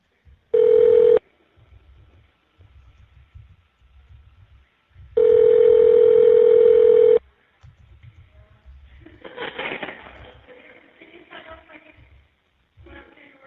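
A phone number is dialed on a prison inmate call: two loud, steady electronic tones, one short and one about two seconds long, separated by faint line clicks and patter, followed by soft muffled noise.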